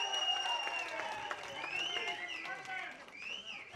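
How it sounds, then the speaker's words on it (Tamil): An audience cheers for actor Ramarajan at a film audio launch, with scattered claps and crowd noise mixed under whistles and tonal sounds, moderately faint overall. "பலமான கரகோஷம் மக்கள் நாயகருக்கு"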